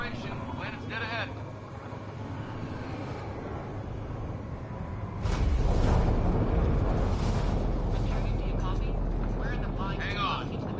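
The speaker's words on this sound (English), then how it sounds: "Initiating atmospheric entry." A spacecraft in Mass Effect Andromeda enters the atmosphere with a rising roar that swells into a loud, sustained rushing rumble about halfway through. Talk runs underneath it.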